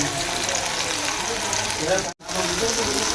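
Prawns hitting a hot frying pan, giving a steady loud sizzle that runs throughout with one brief cut near the end, while someone speaks over it.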